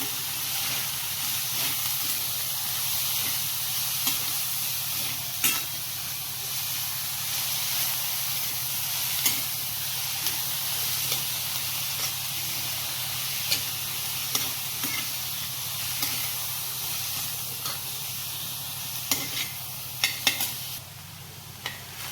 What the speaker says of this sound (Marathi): भाजी छान हलवून घेऊ